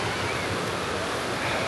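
Waves surge in the wave pool at Typhoon Lagoon at Disney World in Florida, making a continuous broadband wash of water noise. It is steady and fairly loud throughout, with no clear speech.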